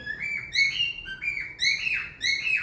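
A small bird chirps and tweets repeatedly, bright and close, in quick rising and falling calls with short pauses between them.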